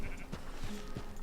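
Sheep bleat several times in short, wavering calls at a ranch in Red Dead Redemption 2, rising over a steady low background hum.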